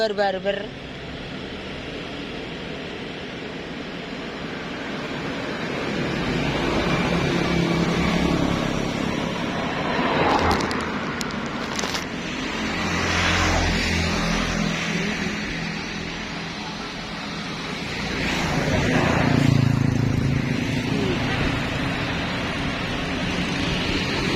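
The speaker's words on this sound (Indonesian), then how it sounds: "Jalan raya, jadi ini yo suara motor bar." Motorbikes and other traffic rumble along a busy main road near a petrol station in Tambakromo, a steady broadband roar with passing swells that rise and fall, and talk over it.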